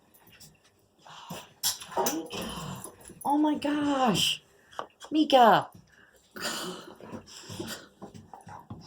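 A pet dog named Mika pants and whimpers with high, wavering yelps close by, mixed in with excited talk from a person greeting it.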